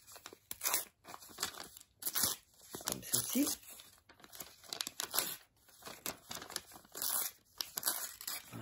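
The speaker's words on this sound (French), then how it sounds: "On prend le morceau de papier et on va couper les bords." Paper being cut and crinkled as its edges are trimmed, bursts of crisp rustling and snipping, close and fairly faint, alternating with someone speaking French.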